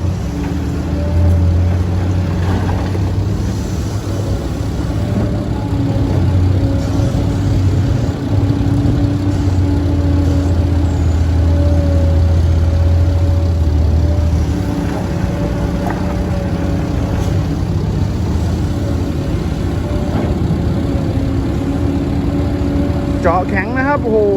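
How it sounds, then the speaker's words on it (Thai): A steady Mitsubishi 4M50 four-cylinder diesel engine on an excavator drones loudly throughout, a low rumbling hum with a constant pitch, close by and continuous. "กำลังเครื่องยนต์สี่สูบ จากมิตซูบิชิ"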